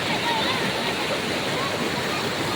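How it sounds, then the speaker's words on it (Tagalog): Fresh river water runs over rocks at a swimming spot, a loud, dense and constant rushing roar that fills the scene without a break. "Fresh running water"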